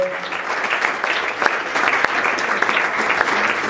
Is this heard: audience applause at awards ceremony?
yes